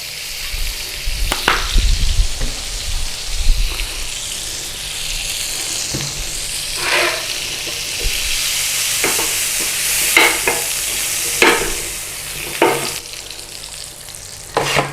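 Butter and a little oil sizzle steadily in a frying pan on the hob, a loud close hiss with occasional pops and a few spoon scrapes near the start.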